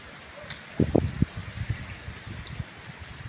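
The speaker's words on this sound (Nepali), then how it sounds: "हावा त के मिठो चलेको बाबा" Wind gusts near a hillside temple: a steady broadband rush with rustling and low buffeting rumbles on the microphone, a few stronger gusts near the start, and no voices.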